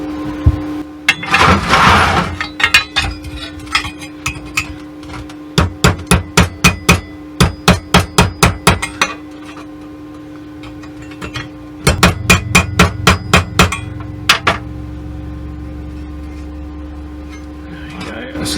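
A hammer taps a metal part of a scratch-built Shelby Cobra model into place in repeated sharp bursts of quick, close, ringing blows separated by brief pauses, with a faint hum underneath.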